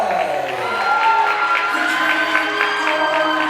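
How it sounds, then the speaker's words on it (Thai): A crowd at the Miss Grand Lopburi 2025 pageant final show claps and cheers steadily at the crowning moment, with whoops mixed into sustained applause over background music. "ขอเสียงปรบมือดังๆเล"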